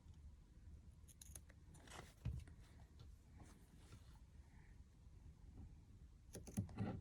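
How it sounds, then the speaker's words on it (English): Material scissors cutting fabric for a handmade plush bunny, a few quiet crisp snips and rustles spread out over a faint, otherwise still background. "these are material scissors"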